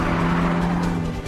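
A Porsche 911 sports car drives at speed with a loud, steady engine roar and a hint of tyre noise, close and continuous for a brief moment.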